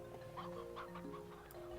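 Chickens in the video game Slime Rancher cluck in a quick series of short, soft calls over a faint background hum, with no voices.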